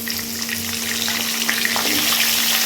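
Cumin seeds sizzling in hot frying oil, a continuous close, bright crackling hiss with a steady low hum underneath and no talking.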